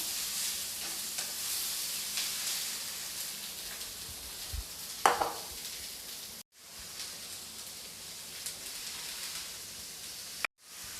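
Chopped vegetables and eggplant are tipped into a hot pan for oats idli, setting off a steady, moderate sizzle that continues with stirring. It is broken by two short silent cuts, and no one speaks.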